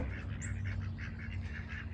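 Several ducks quack in a rapid, repeated series, fairly close and moderately loud, over a steady low background hum with no talking.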